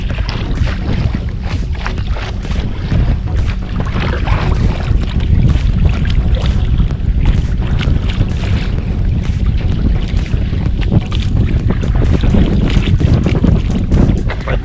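Gusty wind buffets the microphone steadily while a SUP board is paddled down a river near Moscow, with loud, continuous roaring rushes and faint water noise beneath, and no talking.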